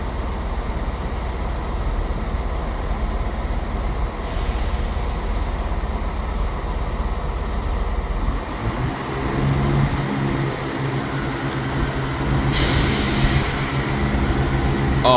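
A train pulls out of Manchester Piccadilly station, a steady rumbling engine and rolling-stock noise building and shifting as it departs, close and loud with no talking.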